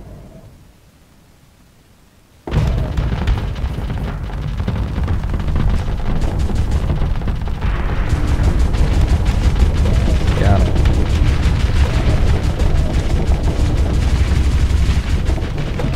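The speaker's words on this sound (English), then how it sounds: "Got missiles coming your way." Missiles explode and guns fire in the space combat game Starsector, a sudden dense roar of blasts and shots that cuts in after a quiet start and keeps up loud and continuous, with talking mixed in.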